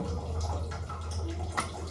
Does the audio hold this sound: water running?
yes